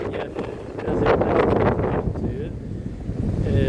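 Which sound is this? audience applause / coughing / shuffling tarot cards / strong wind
strong wind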